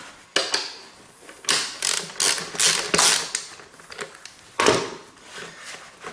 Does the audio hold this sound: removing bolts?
yes